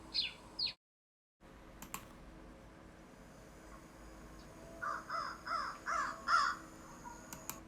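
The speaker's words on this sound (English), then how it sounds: "the American crow." An American crow caws several times in a quick run of hoarse calls, moderately distant, after a few high chirps and a brief dropout at the start.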